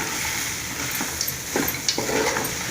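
Vegetable noodles coated in masala are stirred in a pan, giving a soft continuous sizzle with scattered scrapes and light clinks of the utensil, close and moderately quiet.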